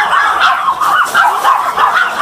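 Small dogs bark and yip in quick, repeated bursts, fairly close and continuous with no voices over them.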